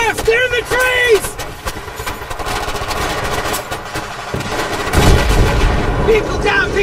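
Gunfire crackles through a Battlefield 3 ambush, sharp reports repeating close and loud with a heavy boom near the end, while voices shout over the fighting.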